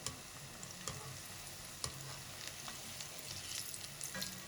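Pakoras deep-frying in a full kadhai of hot oil give a steady, quiet bubbling sizzle, with a few sharp clicks and pops scattered through it and no voices.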